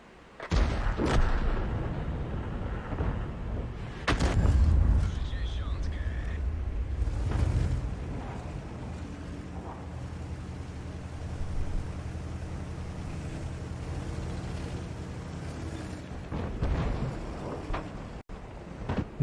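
Artillery shots boom in a tank video game: a couple of heavy, deep blasts with rumbling tails ring out, while someone talks over the game sounds.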